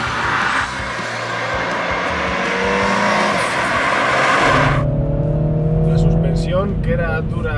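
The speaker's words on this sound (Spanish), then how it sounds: "en las reducciones en modo sport, el sonido del escape nos deleita con algunos petardeos pa pa pa pa" A 2014 MINI Cooper S in sport mode revs and drops through downshifts, its exhaust note swelling and falling, with someone talking over the engine in the closing seconds.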